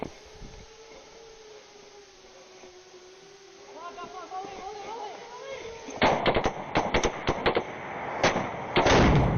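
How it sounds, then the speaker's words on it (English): Several sharp hunting shotgun cracks in quick irregular succession near the end, loud and close, following a quieter stretch with a faint droning tone and distant voices. "This boy had the hunting shotgun."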